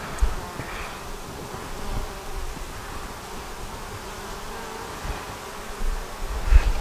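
Honeybees hum around an open nuc hive during a frame inspection, a steady close buzzing of many insects with a few louder passes near the listener.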